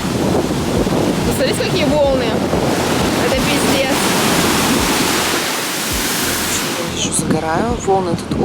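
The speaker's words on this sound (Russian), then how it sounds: "волны тут очень высокие" High surf breaking on a Corsica beach, a loud, continuous wash of crashing waves with heavy wind buffeting the microphone, close and dense throughout.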